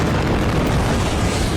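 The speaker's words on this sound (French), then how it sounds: "suivis un peu plus tard d'une deuxième explosion" Explosion at Aden airport in war-torn Yemen, heard as a loud, sustained broadband roar and rumble that fills the whole moment without a distinct onset, with no voices.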